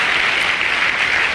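Steady, loud applause from an audience at a network-marketing success-story event, dense even clapping with no talk.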